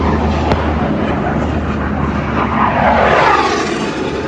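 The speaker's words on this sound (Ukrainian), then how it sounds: "Самолеты над головой, прикинь, летают истребители." Fighter jet engines roar overhead, a broad rushing drone that swells toward the middle and then eases slightly, with no talking.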